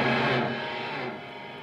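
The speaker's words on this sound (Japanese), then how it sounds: "ちょっとリバーブがかかりすぎた" An electric guitar rings through a Bogner Triple Giant amplifier on its brown channel with heavy reverb, a loud distorted chord decaying into a long washy tail.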